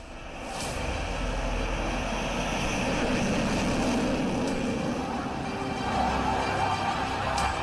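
A Tejas light combat aircraft fighter jet roars steadily at moderate distance, a broad sustained engine rumble with no talking.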